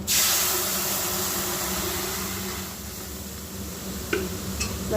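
Boiled lentils just added to hot spiced tempering in a pot, giving a loud steady hiss and sizzle that gradually eases as the dal begins to bubble, with a couple of light utensil clinks.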